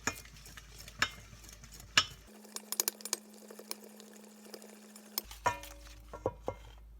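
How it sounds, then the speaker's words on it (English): Cookie batter gets whisked in a bowl, with a quick run of light clinks and taps as the whisk strikes the bowl, close and fairly quiet with no voices. "and then you got to whisk away and like a cray-cray"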